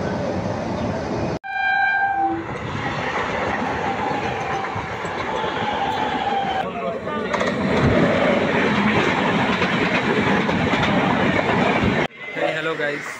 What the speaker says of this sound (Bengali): কাঞ্চনজঙ্ঘা এক্সপ্রেসকে লিড করবে 30457 শিয়ালদা WP7 লোকোমোটিভ